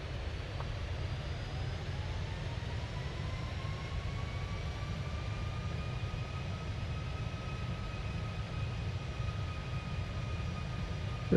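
A Boeing 747F's jet engines spool up as the throttle is increased in the FSX flight simulator, a steady loud roar with a thin whine rising and holding in pitch throughout.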